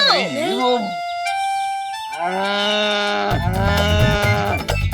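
A person imitates a buffalo's moo with drawn-out, bending vocal lowing calls, mixed with other voices and a burst of background noise toward the end.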